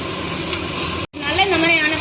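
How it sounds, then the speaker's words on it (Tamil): Vinegar poured into a sizzling chilli chicken sauce in a hot pan, setting off a loud, steady hiss with bubbling crackle, briefly cut off midway before the sizzle resumes, close up. "நம்ம வினிகர் ஆட் பண்ணிக்கலாம்."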